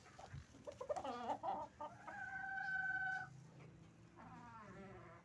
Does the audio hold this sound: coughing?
no